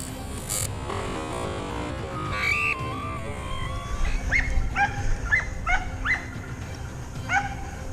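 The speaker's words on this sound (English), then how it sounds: "The hunting dogs fanned out, scouring the thickets to track down the wild boars." Hunting dogs tracking wild boar in thickets at a vineyard's edge, giving repeated yips, whimpers and excited barks at mid-distance over a rustling outdoor background.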